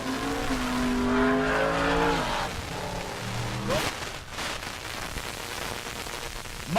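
A 2009 Chevrolet Silverado at a drag race during race week, its engine note climbing through several quick upshifts before fading down the track, with a faint announcer voice in the background.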